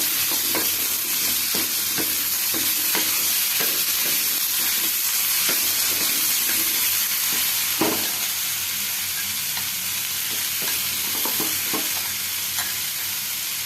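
Spices fry in a hot pan while being stirred, giving a loud, steady sizzle and hiss with repeated scraping strokes throughout, and no voices.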